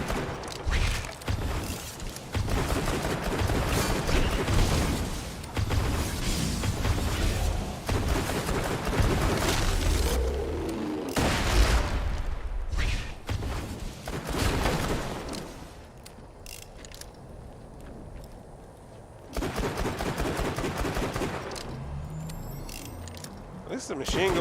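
Rapid bursts of video game machine gun fire ring out in long dense stretches, mixed with booms and mechanical clatter, with a short quieter gap before the shooting resumes, and a player talks over the action.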